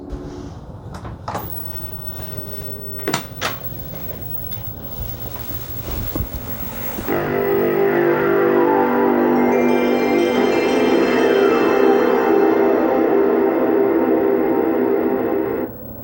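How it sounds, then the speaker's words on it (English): A CRT television turning on: a loud, steady electrical hum with a high whine switches on after a few clicks and thumps, then holds continuously until it cuts off at the end. "Hearing that buzz of that CRT when you turn it on"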